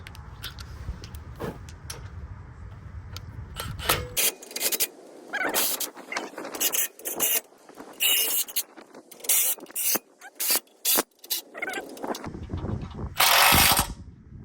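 A bumper plate is bolted onto a Ford F150 (2012 and up) for an off-road front bumper and winch, with ratcheting wrench clicks, metallic clanks and scrapes in irregular bursts close by, broken by short pauses.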